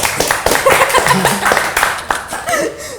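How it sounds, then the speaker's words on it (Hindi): An audience claps and cheers at a Hindi television talk show as guests are introduced, a dense burst of applause with chuckles, loud and near, fading toward the end. "जोरदार तालियां।"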